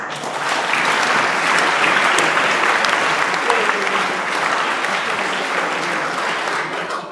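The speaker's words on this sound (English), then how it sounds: "Again, clapping for both of them." An audience at a guest lecture bursts into loud, sustained applause that swells quickly and holds as a dense wash of many clapping hands for several seconds before easing slightly, with no speech over it.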